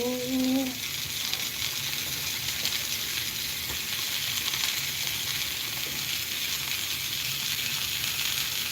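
French toast frying in a pan, a steady close hiss and crackle of sizzling that continues evenly, with a brief tonal squeak at the start.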